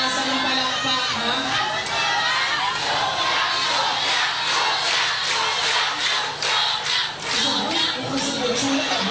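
A large crowd at a contest event roars with shouting, cheering and chatter, a loud, continuous wall of voices with rising bursts, busy and close for the whole stretch.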